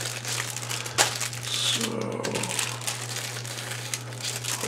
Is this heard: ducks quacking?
no